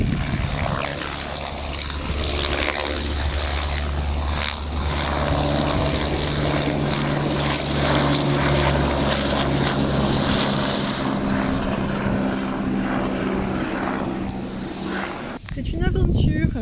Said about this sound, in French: on se regarde l'envol de l'hélico